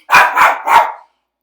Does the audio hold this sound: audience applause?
no